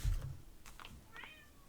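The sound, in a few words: cat meowing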